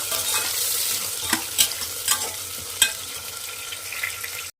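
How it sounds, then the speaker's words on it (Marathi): Onion, chilli and garlic stir-fry in a kadhai for pavta bhaat under a constant close sizzle, with several spatula scrapes and knocks against the pan. "कांदा, मिरची, लसूण हे सर्व आपण इथं टाकून घेणार आहोत आणि व्यवस्थित भाजून घ्यायचं आहे।"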